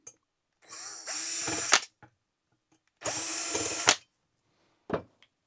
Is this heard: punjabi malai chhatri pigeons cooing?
no